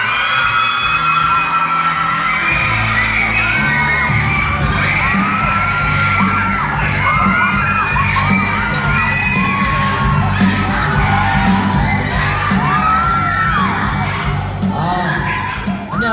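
A crowd of children shouts, whoops and cheers at a festival talk as a popular creator is welcomed on stage, a loud continuous roar of young voices with bursts of yelling lasting the whole stretch.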